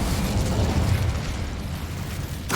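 An Incendio fire spell blast in Hogwarts Legacy, a loud roaring burst of flame that fills the moment and rumbles steadily before a sharp crackle at the end.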